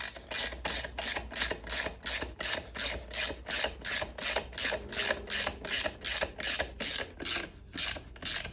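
Steady rapid ratcheting of a torque wrench tightening a 5/16 bolt with Loctite during an air filter and breather tube install, close and loud in about twenty even clicking bursts with no talk.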